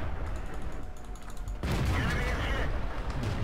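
World of Tanks armor trades fire: a steady low battle rumble erupts into a sharp, loud cannon blast partway through, followed by sustained rolling noise.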